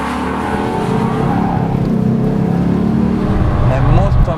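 A Maserati 4.2 GT Coupé engine drones steadily while driving, a loud, continuous low rumble with rising and falling pitch, heard up close under talking.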